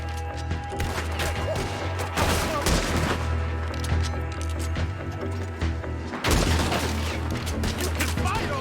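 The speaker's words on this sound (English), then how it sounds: "Sometimes I can hear the gunshots and see the shrapnel" Sustained gunfire in the western video game Red Dead Redemption 2, a dense fusillade of repeated shots and crashes over ambient game noise, with a fresh loud volley near the end.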